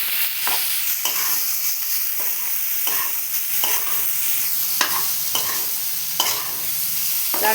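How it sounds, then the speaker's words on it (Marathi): Vegetables frying in a pan for a bread pakoda sandwich filling, with a constant loud sizzle broken by repeated scraping stirs every second or so, close and continuous with no talking. "आता आपण भाजी परतून घेऊया."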